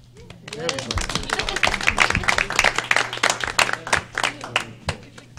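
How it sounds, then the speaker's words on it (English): An audience at a state massage therapy advisory board meeting gives a round of applause, many hands clapping in a brisk, uneven burst for several seconds after a brief spoken lead-in. "Let's give them a round of applause."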